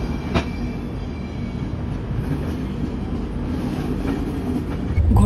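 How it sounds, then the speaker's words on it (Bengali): Bikaner-Sealdah AC Duronto Express train pulling out of New Delhi station, a steady low rumble of rolling wheels and carriages with a faint rhythmic clatter, close and continuous, swelling slightly louder toward the end. "7:45 নিউ দিল্লি থেকে কিন্তু আমাদের এই দুরন্ত ছেড়ে দিল"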